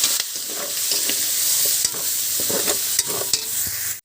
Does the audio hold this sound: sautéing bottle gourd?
yes